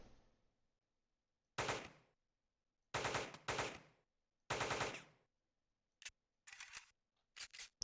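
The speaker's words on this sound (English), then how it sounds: "You see how, like, I'm basically, firing in real time here." Weapon fire in the video game Teleglitch: sharp, loud bursts of shots in separate volleys, some in quick pairs, with near silence between them.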